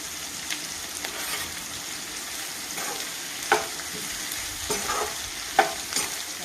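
Onions frying in a pan with salt, giving a soft continuous sizzle with occasional spatula taps and scrapes, close and fairly quiet.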